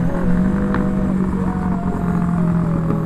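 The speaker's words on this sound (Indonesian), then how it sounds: "Bacot knalpotnya cuy, pakai Ninja 250 Fi ya cuy ya." A Kawasaki Ninja 250 Fi motorcycle with a loud aftermarket exhaust runs close by, giving a steady, droning engine note that holds throughout at high volume with no voices.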